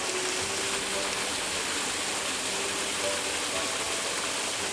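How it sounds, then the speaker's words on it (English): A waterfall cascades over rocks in a steady, unbroken broadband rush of falling water that stays constant throughout, with no voices. "where the water's cascading over the top"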